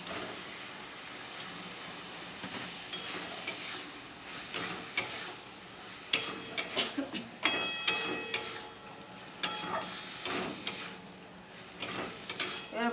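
Minced chicken with spices frying in a pan for a chicken keema aloo dum curry: soft sizzling under a run of sharp metallic clanks and scrapes from a spatula against the pan, growing busier midway.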